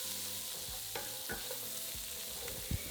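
Steady sizzling of onions frying in bacon fat in a pan, a continuous crackle with occasional soft scrapes and stirs, close by.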